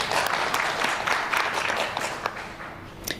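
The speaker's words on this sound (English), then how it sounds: "A round of applause to all of you." Audience applause at a national climate outlook forum in Kenya, a steady wash of many hands clapping that carries on throughout, moderately loud, then thins slightly toward the end.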